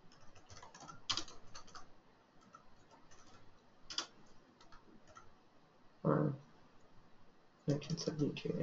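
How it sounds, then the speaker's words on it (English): Clicks on a computer keyboard come in short bursts of a few keystrokes with pauses between, quiet and close, and a person speaks at times. "Type in the title."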